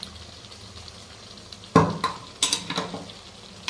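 Mutton frying in a pot, a low sizzle under a sudden scrape of a spoon against the metal, followed by a few quicker clinking stirs and a hiss.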